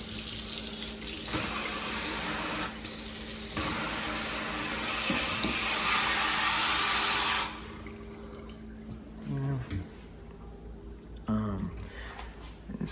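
Water running from an upgraded faucet into a deep-well kitchen sink, a steady loud rush for several seconds that stops abruptly, followed by quieter clinks and faint room sounds.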